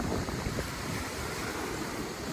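Steady, loud wind in Bohol buffeting the microphone, with a broad rushing roar and no voices.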